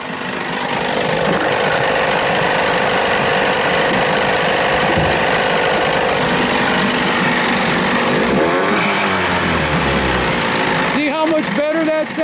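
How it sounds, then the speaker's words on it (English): A 30 hp Evinrude two-stroke outboard motor with an unadjusted carburetor runs loudly and continuously up close, its pitch rising and falling as the throttle is worked, with a rattling change near the end. "Let me rev it up."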